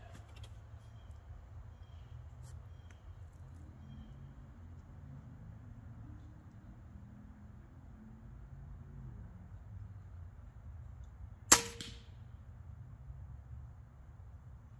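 A single sharp air rifle shot firing an H&N Green pellet at a 40-yard target on power setting 2 cracks out once against a quiet, low outdoor rumble.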